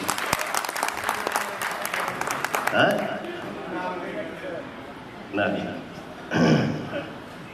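Applause from an audience at a stage show, a long burst of clapping mixed with crowd noise that fades into murmuring, with a couple of shorter swells of clapping and cheering afterward.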